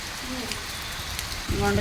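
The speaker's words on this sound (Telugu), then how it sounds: "అంతకు ముందు నుంచి వస్తున్నట్టుంది వర్షం" Heavy rain falls at night as a steady, soft hiss throughout, faint and distant, with a brief voice-like sound near the end.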